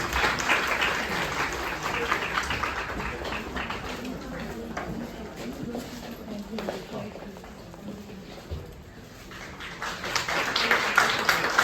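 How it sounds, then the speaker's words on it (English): An audience at a nurses' retirement ceremony gives sustained applause, a broad wash of many hands clapping that dips slightly midway and swells again toward the end, with faint voices mixed in. "Please give a huge round of applause"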